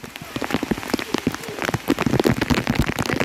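Heavy rain pours down close by, a dense, uneven patter of drops striking surfaces continuously.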